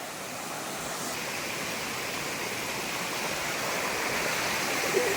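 Water pours steadily at Lap waterfall (Phran Thep Sing) in Thailand, a dense, continuous rushing roar that stays even and fairly close throughout, with no talking.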